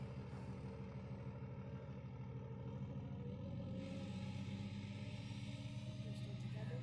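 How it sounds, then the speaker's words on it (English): Mack Cruiseliner cab-over truck engine idling and rumbling steadily as it shifts gears, a continuous close low drone with a slight rise in the second half. "Shifting gears."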